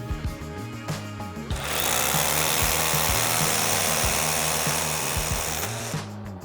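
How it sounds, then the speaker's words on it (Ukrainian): A Dnipro-M DHR-202BC rotary hammer runs with a core bit. A short motor whir gives way to about four seconds of loud, harsh, hammering drilling, which then cuts back to a winding-down hum. "І давайте спробуємо трошечки зараз забуритися."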